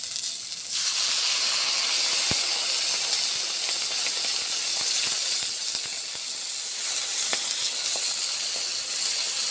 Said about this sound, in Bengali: এবার আমি অল্প জল দেব